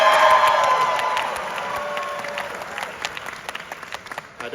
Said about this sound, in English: If you're East Coast and you grew up loving Twizzlers, applause, please.